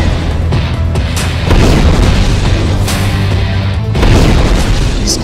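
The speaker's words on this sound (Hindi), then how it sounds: "इसकी सबसे बड़ी वजह यह ब्लास्ट है, यह धमाका" An explosion blast in Beirut comes across as a loud, sustained, deep roaring rumble that swells a little midway and again near the end, with no voices over it.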